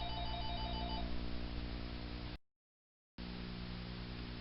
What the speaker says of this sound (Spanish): justo me llamaron por teléfono